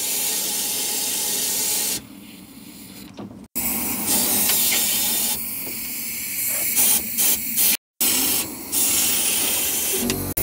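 Wax spray hissing from an aerosol into the wheel arch of a Smart Fortwo 450, several loud close bursts broken by short pauses, with no talking.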